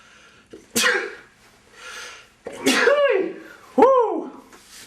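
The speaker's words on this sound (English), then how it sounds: "I have to sneeze." A single sharp sneeze from one person, loud and close, bursting out after a brief gathering breath, followed by a couple of throaty vocal exclamations.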